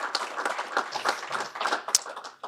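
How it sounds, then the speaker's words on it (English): Scattered audience clapping at a spring legislative breakfast, light and fairly quiet, individual claps audible rather than a dense roar. "So let's give them all a round of applause,"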